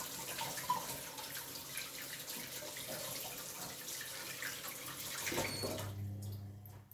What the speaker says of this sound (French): Je vais me rincer les mains quand même.